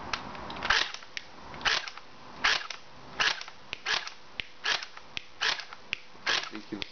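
D-94 FirePower electric rifle fired outdoors in semi-automatic mode: a series of about a dozen sharp, snappy shots at irregular spacing, fairly close, with light wind noise between them.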